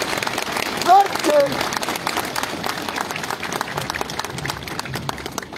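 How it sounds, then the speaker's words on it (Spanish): Crowd applause at a school anniversary ceremony, where buses are handed over to a school in Junín, runs steadily throughout, with a couple of short whistle-like tones and some voices in the crowd early on. "¡Los aplausos, señoras y señores!"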